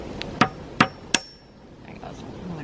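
A hammer drives a spile into a maple tree with three sharp, evenly spaced knocks, each a dull muffled thump, followed by quiet outdoor background.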